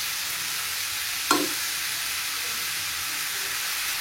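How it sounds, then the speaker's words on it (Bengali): Tandoori chicken pieces frying in a pan make a steady, even hiss throughout, broken once by a single sharp utensil tap near the start. "দুটো এবারে আস্তে আস্তে করে ফ্রাই করবো"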